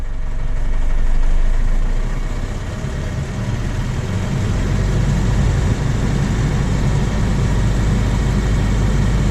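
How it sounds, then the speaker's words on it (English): A DAF LF diesel truck engine with a leaking slave cylinder and NOx fault runs loudly and steadily close by, its low rumble swelling briefly as revs rise before settling into an even, sustained drone. "So I'm just going to pick the revs up."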